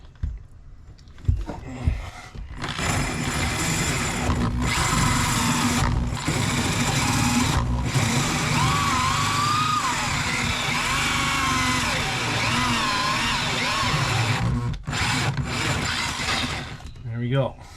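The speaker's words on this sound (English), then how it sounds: "now that the epoxy set up, I can drill this hole." A power drill bores a hole through the metal wall of a van being built out, grinding steadily and loudly for most of the stretch, with brief pauses near the start and end.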